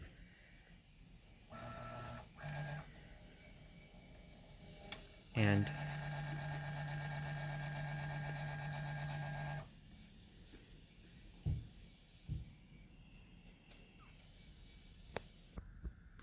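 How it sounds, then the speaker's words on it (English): A Prusa Mini 3D printer retracting PLA filament, its stepper motor whirring in a steady pitched drone for several seconds, preceded by short motor bursts and followed by faint clicks, with a brief spoken word nearby. "the printer is going to retract the filament out."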